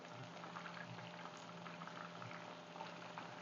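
Chicken 65 pieces deep fry in oil, a faint, steady bubbling roar with fine crackles and no voices, continuous throughout.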